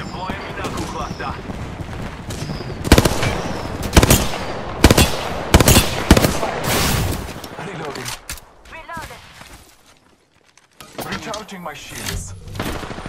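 Heavy automatic gunfire crackles through an Apex Legends match in repeated loud bursts, with a spoken line over the action and a brief lull before the shooting resumes.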